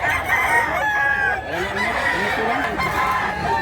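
A rooster crows loudly and close by, one drawn-out call rising and falling, while people talk in the background.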